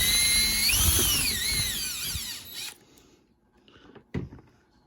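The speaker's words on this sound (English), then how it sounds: "Get our drill." A cordless power drill whirs loudly while working on a Traxxas 2WD RC car during a front bearing carrier install, its pitch wavering over about three seconds before it stops, followed by a couple of quiet clicks and handling noises.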